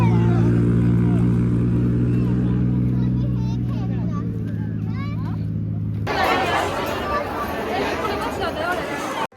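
A dense crowd at Ganpatipule beach chatters in a steady babble while vehicles hum and rumble nearby, with a low engine drone at first before the mixed noise grows brighter and fuller.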